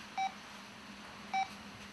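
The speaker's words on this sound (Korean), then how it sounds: "남편이 전화할 때만 울리는 그 특별한 벨소리란 어떤 걸까?" Two short, identical electronic beep tones from a mobile phone ringtone, spaced about a second apart and fairly faint over a quiet background hum.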